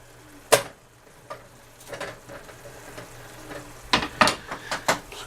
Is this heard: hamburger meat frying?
yes